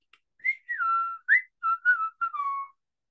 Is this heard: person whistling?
yes